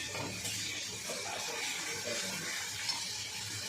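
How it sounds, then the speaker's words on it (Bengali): Onions fry in a pan, giving a steady hissing sizzle that runs evenly throughout, fairly soft and close, with faint stirring scrapes beneath. "পেঁয়াজটা একটু ভাজা হবে।"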